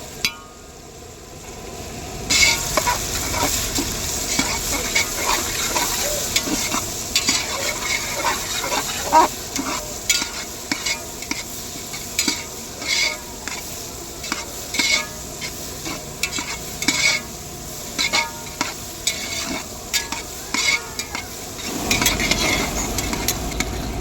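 A broad bean and tomato curry, cooked dhaba style, sizzles steadily in a pan while being stirred, with repeated scraping strokes of the spoon over the continuous frying hiss.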